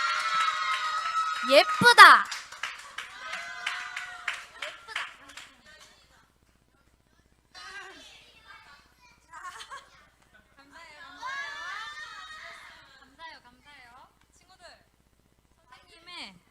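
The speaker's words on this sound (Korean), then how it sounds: "박수!" Children clap and cheer briefly at a junior church worship gathering, a bright burst of claps and excited young voices that quickly fades into scattered chatter and laughter.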